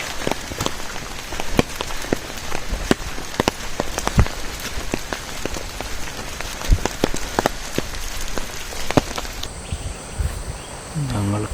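Rain falls steadily in the Periyar forest, with scattered drops tapping sharply and irregularly on nearby surfaces amid a constant soft patter.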